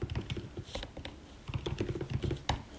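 Rapid typing on a computer keyboard, with dense irregular keystroke clicks over nearly three seconds, close and fairly quiet, with no voices.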